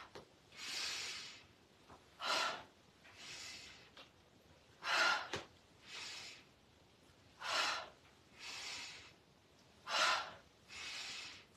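Slow, deep yoga breaths drawn in and let out through the nose and mouth, about ten airy rushes in a steady rhythm with quiet pauses between, close and soft, no speech.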